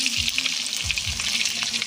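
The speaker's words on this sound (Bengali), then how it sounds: "লাল লাল করে মাংসের আলুটা আমি ভেজে নিই" Potatoes with salt and turmeric frying in mustard oil for a meat curry, a close, steady sizzle with a few low scrapes as they are stirred in the pan.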